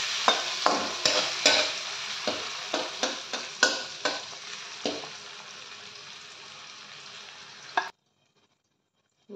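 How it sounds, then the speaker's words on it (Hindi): Tomatoes, peanuts and potatoes being stirred in a sizzling frying pan, a spoon scraping the pan in a steady series of strokes over the hiss, close, before it cuts to silence near the end. "Mix everything."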